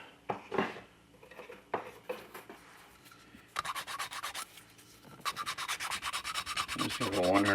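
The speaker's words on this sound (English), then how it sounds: "Sand this down a little bit." Sanding a soft vinyl model kit part by hand, with short rubbing strokes at first and then steady continuous scraping close to the listener, and no talking.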